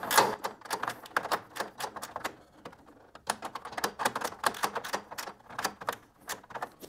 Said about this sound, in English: it's a 3/8 wrench here, and we can just drive that nut all the way back to the bottom